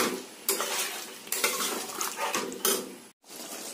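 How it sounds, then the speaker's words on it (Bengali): A spoon scraping and clanking in a metal pot while chicken curry cooks, several rough stirring strokes with knocks against the rim and a short pause near the end. "এবার এটাকে সুন্দর করে নাড়াচাড়া করে জল ঢেলে ঢাকা চাপা দিয়ে দেবো"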